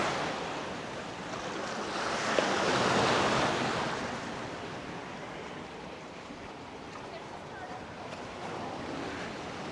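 Ocean waves wash steadily onto Querim Beach in Goa, a broad continuous surf roar that swells and eases under gusty wind buffeting the microphone.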